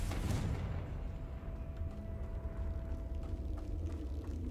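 A Confringo blast spell cast in Hogwarts Legacy, with a loud explosive burst at the start that fades into a low, rumbling tail with a faint ringing hum beneath.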